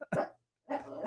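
Two short barks from dogs, close by, separated by a brief silence, with no talking.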